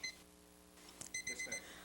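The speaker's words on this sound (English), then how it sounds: "there's that timer." A Turbo Cooker Plus timer goes off as a cake finishes, giving a few short, faint electronic beeps in quick succession after a soft click, with nothing else heard.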